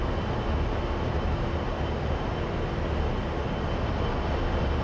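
Steady roar of an A-10C aircraft engine in the DCS World flight simulator, a dense unbroken drone holding at constant loudness throughout, with no talk.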